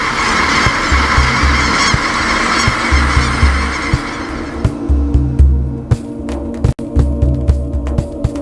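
A large flock of geese honks in flight over the ancient lava flows of Northern California, a dense, continuous chorus of calls that fades somewhat toward the end, with low rhythmic throbbing underneath.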